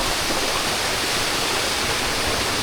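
Balite Falls on the Kaytitinga River in Sinaliw na Munti, Alfonso, Cavite, pours as a loud, constant roar of rushing water, close by and unbroken.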